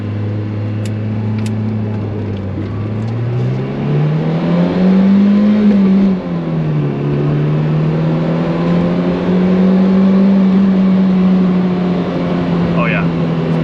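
A Fiat X1/9 with a freshly swapped camshaft accelerates hard, its engine note climbing and holding loud and close from the cabin, dipping briefly mid-run before rising again, with no talk over it.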